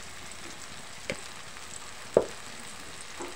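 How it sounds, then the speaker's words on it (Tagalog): Tomatoes with pepper frying in a pan, a quiet low sizzle with a few soft stirring scrapes, one more distinct knock near the end. "Haluin po natin."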